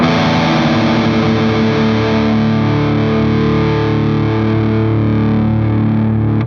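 A heavily distorted electric guitar in drop D tuning rings out a chord on the three lowest strings and sustains, thick and loud, slowly fading near the end.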